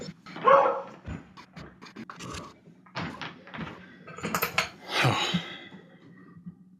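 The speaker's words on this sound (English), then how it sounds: "I got the pups barking" Beagles bark indoors in a string of sharp, loud bursts spread across several seconds, with panting and faint household clatter, like dishes or a cupboard, between the barks.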